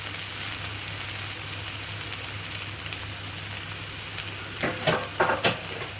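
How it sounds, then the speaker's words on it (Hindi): Marinated chicken frying in oil over a high flame, a steady loud sizzle with a few sharper stirring scrapes and crackles near the end, heard close and alone. "अब हम इसमें डाल देंगे चिकन मैरिनेटेड। चिकन को हाई फ्लेम पर 2-3 मिनट तक भूनेंगे।"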